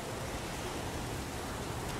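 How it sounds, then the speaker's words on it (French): Steady, even rainfall in the Heavy Rain video game, a dense hissing downpour that stays constant throughout with no voices over it. "Ça n'a jamais tué personne, un peu de pluie."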